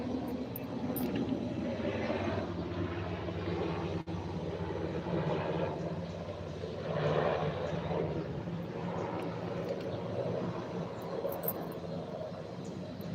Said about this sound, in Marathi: हेलिकॉप्टर आलं बघा